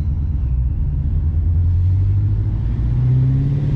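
A supercharged Shelby GT350 Mustang's exhaust hums in a low, steady rumble while accelerating, its pitch climbing gradually and sounding close and fairly loud, with no talking.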